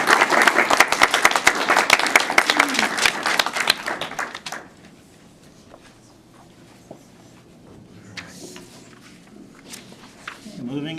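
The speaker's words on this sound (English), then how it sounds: "Can we have a nice round of applause for you?" Board of education meeting audience gives a short burst of applause, loud clapping for about four seconds that cuts off into a quiet room with faint rustling and small sounds.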